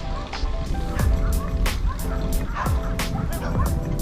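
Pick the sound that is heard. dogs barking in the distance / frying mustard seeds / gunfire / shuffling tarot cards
dogs barking in the distance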